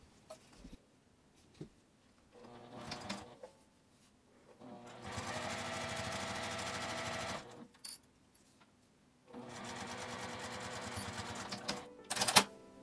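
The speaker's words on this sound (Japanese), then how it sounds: "同じようにファスナーの端を縫います。" A sewing machine stitches across the end of a zipper on a zippered accordion coin purse. It runs in two long, steady bursts with quiet handling pauses between them, close and clear.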